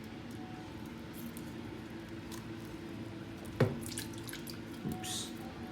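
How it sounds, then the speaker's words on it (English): Water drains through the soil of a watered kitchen plant pot into the tray below, heard as a quiet steady trickle with a couple of distinct close drips and a soft squelch near the end. "Just like pour around the soil, just make sure the water is draining."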